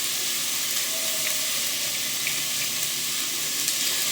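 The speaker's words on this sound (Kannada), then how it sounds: "ಈರುಳ್ಳಿ ಜೊತೆ ಫ್ರೈ ಮಾಡೋಣ." Onions fry in a pan for an ash gourd saaru, giving a steady, close, even sizzle and hiss that lasts throughout with no talking.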